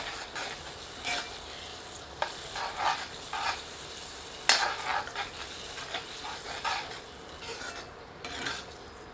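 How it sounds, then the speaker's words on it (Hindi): Mutton and potatoes with spices frying in a pan over medium heat, a steady low sizzle broken by irregular spatula scrapes and stirring knocks, close and fairly loud, no talking. "सबको मिलाकर 2 से 3 मिनट मध्यम आंच पर भूनते हैं।"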